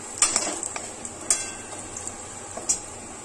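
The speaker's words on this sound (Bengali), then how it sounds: "পেঁয়াজটাকে বেরেস্তার মতো ভেজে নিচ্ছি" Onions for biryani fry in a pan, a steady soft sizzle broken by sharp metal spatula clinks and scrapes against the pan at irregular intervals, close and fairly quiet.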